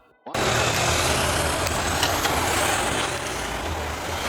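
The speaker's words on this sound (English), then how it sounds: "This is a police unmarked car, a plain police vehicle used for undercover missions and discreet surveillance." An unmarked police car's engine starts up after a brief quiet moment and settles into a loud, steady rumble close by, holding constant to the end.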